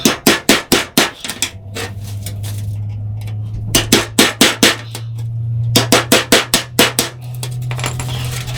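A power drill boring large holes through material, with bursts of sharp, rapid, loud impacts as the bit catches and judders, broken by stretches of a steady motor whine.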